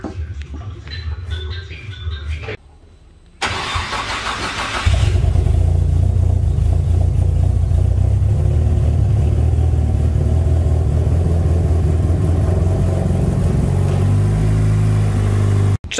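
A tuned Nissan SR20 car engine, rebuilt for over 600 horsepower with its valve cover just refitted, cranks briefly after some quiet workshop clatter, then fires and runs loudly and steadily up close.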